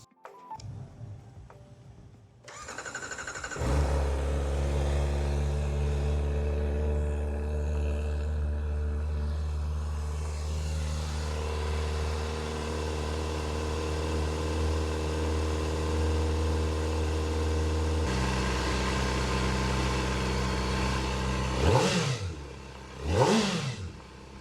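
A Kawasaki ZX-4RR motorcycle on its stock exhaust fires up with a starter whir, settles into a steady high-pitched idle, then snaps through two quick sharp revs near the end, close and loud, with no talking.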